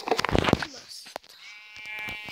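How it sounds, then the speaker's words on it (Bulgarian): Sheep bleating in the Minecraft video game, a couple of short wavering bleats heard close and fairly quiet, with someone talking over them and game ambience. "Да, чувам още една овца, обаче не виждам никъде"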